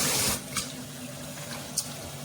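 Weak, low-pressure water runs steadily from a SURFOU kitchen sink mixer faucet with pull-out spray, a soft continuous hiss with a couple of brief splashy spikes.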